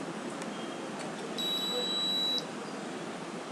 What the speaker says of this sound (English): If my hand is there, buzzer turns on.